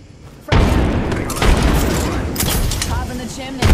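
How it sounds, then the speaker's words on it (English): A frag grenade explodes in a battle royale shooter with a sudden heavy boom and long rumbling blast, followed by further booms and gunfire-like bursts, while players talk over the din. "Frag grenade sent."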